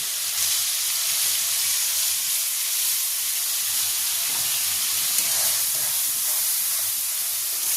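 Ginger, garlic and green chili paste hits hot oil with frying prawns, giving a loud, steady sizzle and hiss that runs unbroken throughout with no talk.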